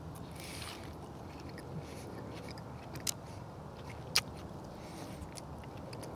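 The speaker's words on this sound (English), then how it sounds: "Let me munch on this leg now." Quiet crunchy bites and soft chewing on a grilled Filipino barbecue chicken leg, with two sharper crunches standing out over low background noise.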